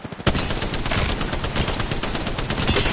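Sustained rapid automatic gunfire in a video game, loud and continuous for a few seconds after a couple of brief opening shots, with no talk over it.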